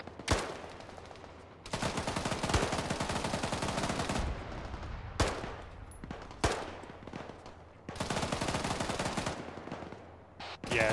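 Bursts of automatic gunfire from a military video game, several sustained volleys separated by short pauses, loud and close, with occasional sharp single shots between them and no talking.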